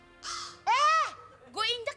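Crow caws played as a sound effect in a comedy show, three loud, harsh, nasal calls close by with short gaps between them.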